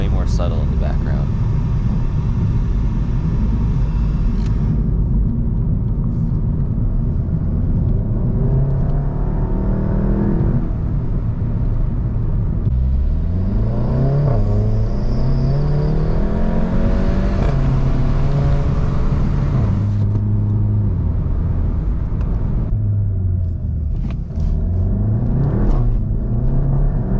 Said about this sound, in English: You can definitely still hear the engine quite a bit, but it's just way more subtle in the background.